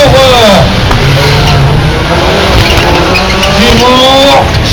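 A Peugeot 208 and a Citroën C4 super car race wheel to wheel at a French rallycross championship round at Dreux, with loud, close engines revving and rising, tires squealing under a commentator's voice.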